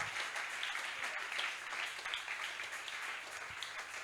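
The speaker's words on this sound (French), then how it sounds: "Est-ce que quelqu'un peut acclamer le Seigneur?" A church congregation at a Sunday service applauds to acclaim the Lord, a dense, even wash of many hands clapping, moderately distant and sustained throughout.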